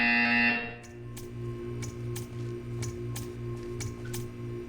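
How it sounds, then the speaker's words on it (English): Buzzer in the video game Portal 2: a loud tone opens, then it drops to a steady electronic hum with regular faint clicks and ticks. "You will hear a buzzer."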